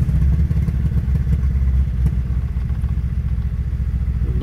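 A ZAZ-965 Zaporozhets car with a V-shaped engine runs steadily close by, a loud, rough low-pitched throb with rapid mechanical clatter over four and a half seconds, no talk.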